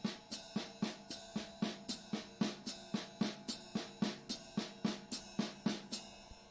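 A jazz drum kit plays a steady groove: ride cymbal and snare in triplets over quarter notes from the hi-hat pedal. Evenly spaced, crisp hits repeat throughout, quiet and close, with no talking.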